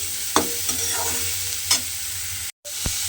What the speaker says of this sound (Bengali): নুন, হলুদ গুঁড়ো আর চিনিটা দিয়ে আমি এইভাবে নেড়ে চেড়ে 1 মিনিট মতো একটু রান্না করে নিয়েছি